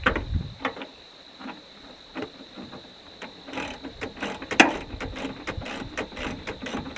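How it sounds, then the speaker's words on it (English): A hand ratchet fitted with a 1/2-inch socket and an extension loosens a battery bolt, giving off clusters of quick clicking and faint metallic ticks, close by and fairly quiet, with a persistent tonal whine in the background. "I have to use this ratchet with a 1/2-inch socket and this extension on there to get down in."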